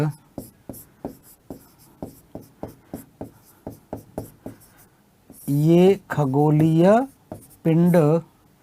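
Chalk or marker strokes on a board during a Hindi-language school lesson on the solar system, a quick regular run of short scratchy taps for several seconds, followed by a teacher speaking briefly between the final strokes.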